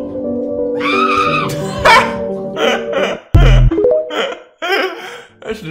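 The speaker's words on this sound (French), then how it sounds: "Le chien, il est bizarre." A dog barks and yips in short, loud, irregular bursts, mixed with laughter and voices over a busy, cluttered background.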